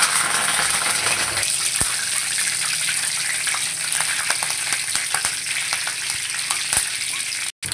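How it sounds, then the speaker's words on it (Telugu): Curry leaves frying in hot oil with green chillies and ginger-garlic paste, a loud, dense, continuous sizzle with scattered sharp crackles and pops, briefly cutting out near the end. "సో కరివేపాకు కూడా ఫ్రై అయిపోయింది"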